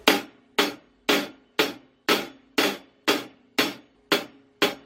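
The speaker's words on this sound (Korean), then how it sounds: "제일 기본적인 비트 8비트라고 하잖아요" Drum kit playing a basic 8-beat rhythm, with evenly spaced sharp hits about every half second, each decaying quickly, close and fairly loud with no talking.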